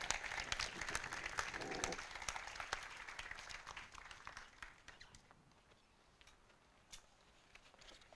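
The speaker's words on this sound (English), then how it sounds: "let's go ahead and give a round of applause to Miss Morgan Lowry" An audience at a Memorial Day ceremony in Moreno Valley claps for a speaker. The applause starts fairly strong, then thins out and fades to a few scattered claps before dying away.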